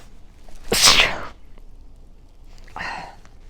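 A single loud, sharp sneeze bursts out close to the microphone, followed a moment later by a softer breathy sound.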